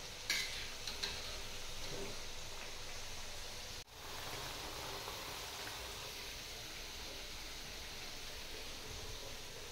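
Chakli dough fries in hot oil in a pan on a stove, a soft continuous sizzle with faint stirring and clinks, steady throughout apart from one brief dip, with no talking.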